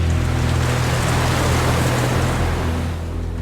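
Open ocean water washing and lapping steadily around a drifting vessel with no engine or sail, a continuous broad wash with a low rumble underneath and no voices.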